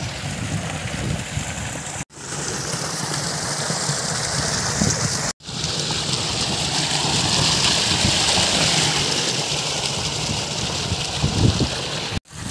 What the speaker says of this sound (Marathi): या बांधामधून हे पाणी इथून वाहत आहे